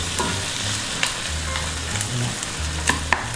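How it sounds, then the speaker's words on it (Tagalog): Tomatoes added to onions sauté in a pan for monggo with bagnet, giving a steady soft sizzle with a few light stirring clicks, close and moderately quiet. "ilagay ko na po yung kamatis kasi naluto na yung sibuyas"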